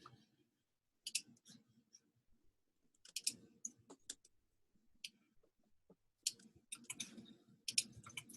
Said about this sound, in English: And now my keyboard's back at it.